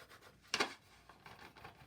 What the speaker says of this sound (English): So I'm just gonna take this time to color the whole thing.